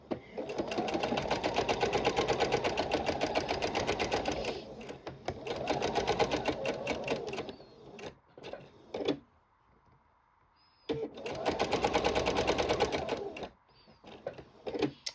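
A sewing machine stitching quilt fabric runs in rapid, even bursts of several seconds each, separated by brief pauses and a longer quiet stretch, close and clear with no talking.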